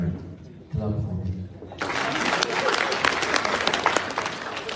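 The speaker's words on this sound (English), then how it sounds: "Clap for me." An audience at a Ugandan community event in Canada breaks into dense clapping after a short spoken introduction, a loud sustained wash of applause that continues to the end.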